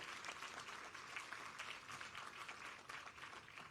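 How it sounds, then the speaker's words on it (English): Sustained audience applause fills a graduation ceremony hall, a dense, steady wash of many hands clapping together without pause from start to finish. "Shall we have another resounding applause for the successful completion of our graduation"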